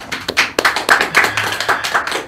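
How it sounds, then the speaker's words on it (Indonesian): A small audience claps in a brief, close burst of sharp, distinct handclaps to welcome guests from the Tribrata Rafflesia FC football team. "Tepuk tangan dulu."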